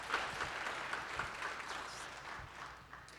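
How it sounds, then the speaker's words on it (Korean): Faint applause rises from an audience at an awards ceremony for graduate and doctoral award winners, scattered hand claps heard at a distance and fading slightly over a few seconds. "그 graduate, doctoral award 여러분께 큰 박수 부탁드립니다."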